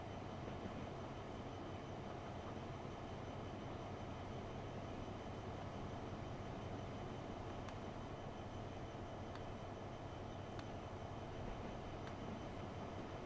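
A steady, quiet, distant rumble of a passing train in the railway game Transport Fever 2, with faint clicks on top, holding an even level throughout and no talk.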